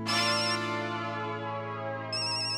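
A phone ringtone plays a bright electronic melody, sustained and loud, with a brief drop before the tune resumes at the end.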